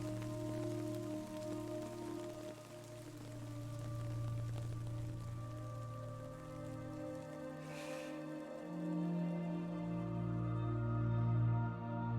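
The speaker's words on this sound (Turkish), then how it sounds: "Ne, yağmur bizi yaşlandırmıyor mu ya?" Rain falls in the video game Death Stranding, a soft continuous hiss that runs the whole time under a sustained low musical drone, fairly quiet and with no one speaking.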